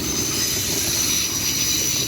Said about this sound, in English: Train about to go by here.